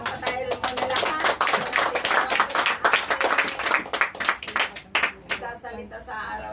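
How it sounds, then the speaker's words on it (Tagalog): A church congregation claps together in a lively, rapid rhythm, the claps fairly close and dense, with voices talking and calling out over them. "Pumalakpak pa tayo muna lahat."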